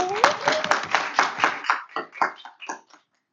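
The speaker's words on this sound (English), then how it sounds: "We can still clap for her." A small group of people clapping in a meeting, a series of distinct clap bursts in uneven rhythm that thin out and fade to silence near the end.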